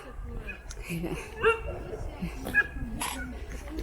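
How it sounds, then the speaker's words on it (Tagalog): A dog yips and whimpers in short bursts under steady outdoor talking in a forest in Bavaria, with a couple of sharper barks standing out. "may aso silang dala."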